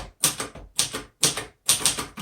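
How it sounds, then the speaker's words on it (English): Typing on a 1962 Royal Signet portable typewriter: four quick bursts of crisp key strikes, each cluster of clacks separated by short pauses, close and clear with no voices. "let's go ahead and let's do some typing"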